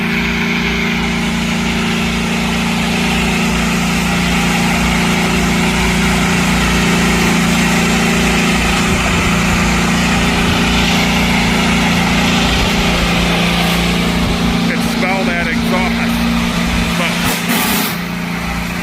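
IndyCar race car engine holding a high, steady idle on an oval track at the Milwaukee Mile, a loud continuous buzzing drone with a strong low hum running unbroken throughout.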